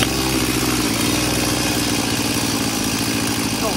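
A used Japanese-market Stihl chainsaw idles steadily after starting, a continuous close buzzing engine drone with even rhythm and no speech over it.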